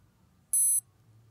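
An Aqualand dive watch gives a single short, high electronic beep when its depth gauge is switched on. The beep is clear against near-silence with a faint low background hum.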